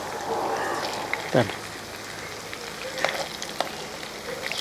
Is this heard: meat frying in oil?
yes